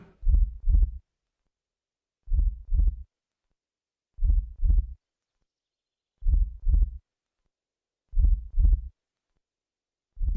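A slow, steady heartbeat thumps in paired beats, repeating about every two seconds against silence, in a scene from the Hindi-dubbed film RRR.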